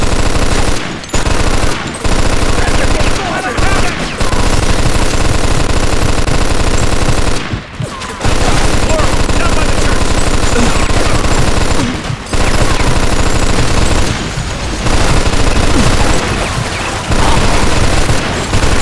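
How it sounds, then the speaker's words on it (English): Sustained machine gun fire in Mafia 2 during an Old Country battle, loud and relentless, hammering almost without pause for nearly twenty seconds with only a few brief gaps between long bursts. "Get on that machine gun!"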